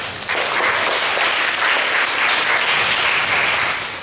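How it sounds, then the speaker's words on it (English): An audience applauds two guests at a sports psychology talk, a dense, loud, sustained wash of clapping that carries on alone before tapering off slightly at the end. "big round of applause for these two"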